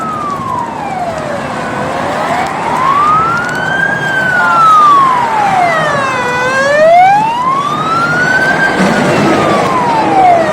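A fire engine's wailing siren rises and falls in long slow sweeps, loud and close, as the crew arrives at a burning car in Iskenderun, with traffic rumble underneath.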